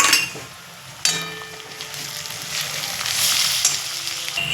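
Chili powder, ginger paste and turmeric hit hot oil with a sharp, loud sizzle that swells and crackles close by, with light stirring and a faint utensil clink.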